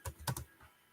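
A computer keyboard is typed on during a graphics design class: a few quick, crisp keystrokes, two close together, then a softer tap, all faint and close with no voices.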